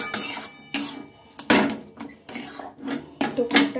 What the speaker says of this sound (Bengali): তো এটাও আমি এই আলুর যে পুরটা রেডি করছি ভালোভাবে মিশিয়ে নেব।